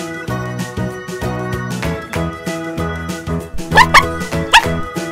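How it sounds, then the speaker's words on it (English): A cartoon-style dog bark sound effect rises twice near the end, in quick yips over bright, bouncy children's music that plays loudly throughout. "Dog."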